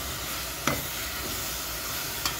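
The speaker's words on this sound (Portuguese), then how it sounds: "Vou refogar esse arroz aqui." Rice and meat being sautéed together in a pan, giving a steady, even sizzle with two brief stirring scrapes, one near the start and one near the end.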